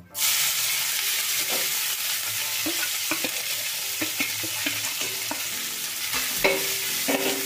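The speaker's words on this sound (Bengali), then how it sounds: "এখন অল্প একটু তেল দিলাম এই মাছটা ভাজার জন্য" Dry fish hits a little hot mustard oil in a wok over a medium flame. A loud sizzle starts at once and keeps going, with scattered light clicks and scrapes from turning the fish, and no one speaking.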